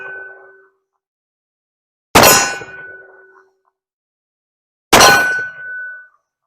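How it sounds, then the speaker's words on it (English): Bullets strike steel shooting targets outdoors on a cold day, giving two sharp metallic clangs a few seconds apart, each ringing out briefly, with a fainter ringing tail heard at the very start. "So let's shoot at some steel targets here."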